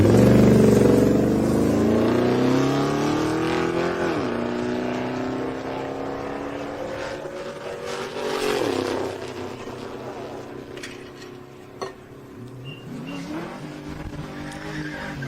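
A 1965 Dodge Dart GT makes a drag racing pass: a loud engine roars and climbs through rising gear pulls, then fades as the car runs away down the strip.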